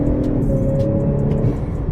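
A Honda Accord 2.0t on E85 pulls under acceleration, giving a steady, loud engine drone close up from inside the car for a couple of seconds.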